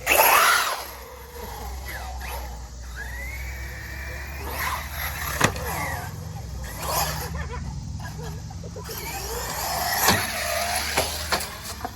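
An Arrma Talion EXB radio-controlled car driving around a skate park, its small electric motor whining up and down in short bursts with scuffs and clatters of the chassis on concrete, fairly close against outdoor ambience.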